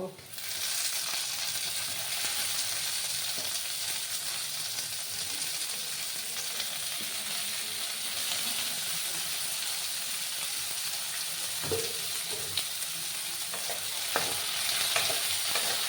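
Onion and tomato stir-fried in a pan, a continuous sizzle and hiss with occasional scraping of a spoon, close and steady, no one talking.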